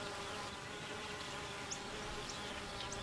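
Honey bees swarm and hum near their hive in a steady, dense buzzing drone that holds unbroken throughout, with a few individual insects passing closer now and then.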